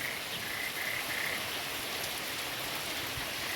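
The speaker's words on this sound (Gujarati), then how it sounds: "વરસાદ મારી વાત સાંભળી ગયો, થોડોક વાલ ખોલ્યો જો" Steady rain pours down in a village at night under a street light. It makes a dense, even hiss with no breaks, and faint chirping insects or frogs can be heard in the background.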